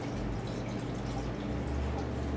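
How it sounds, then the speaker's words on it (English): D76 film developer poured into a container, a soft steady liquid trickle running continuously under broadband room noise with no voices. "pour 150 milliliters of developer"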